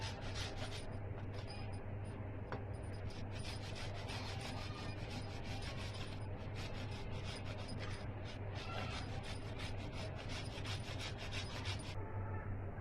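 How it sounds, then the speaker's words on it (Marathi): Something being grated very finely by hand, producing a quiet, continuous scraping rasp with quick repeated strokes, close but faint, with no talk over it. "अशा पद्धतीने एकदम बारीक किसून घ्यायची आहे"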